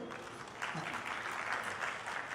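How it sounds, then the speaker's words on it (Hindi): A crowd claps steadily at a Hindi poetry recital (kavi sammelan) at the 2022 Aligarh Mahotsav, a dense, even patter of applause heard at moderate distance. "एक बार ताली बजा दीजिए"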